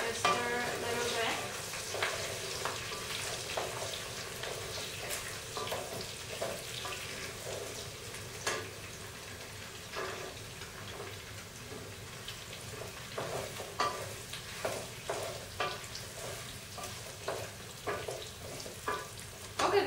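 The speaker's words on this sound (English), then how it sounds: "I'm gonna go ahead and put the onions in there and carrots. I'm gonna start with the carrots. And just stir a little bit." Carrots and onions stirred in a hot pan for flavored brown rice, a continuous sizzle broken by frequent scraping clicks of the utensil against the pan, close and moderately loud.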